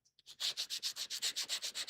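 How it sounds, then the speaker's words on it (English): Rhythmic back-and-forth sanding on a part during restoration of a 1982 Corvette, about a dozen even rasping strokes, close and steady, with no talking. "which is why I'm just going ahead and sanding it"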